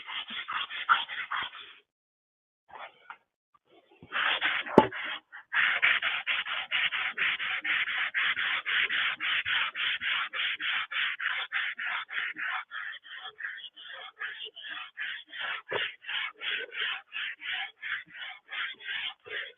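Someone hand sanding a wooden piece with rhythmic back-and-forth rasping strokes, close and fairly quiet, a short pause early on and then a long steady run of regular scrubbing.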